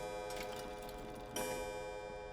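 Clock pendulum ticking inside a Resident Evil 7 game scene, a steady mechanical tick-tock sounding under a droning ambient background with a brief louder swell partway through.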